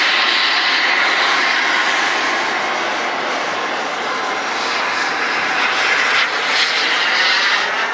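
A turbine-powered model jet with a roughly 40-pound-thrust turbine and thrust vectoring flies at a rally, its loud, steady high-pitched roaring whoosh swelling slightly as it passes, heard outdoors with no talking.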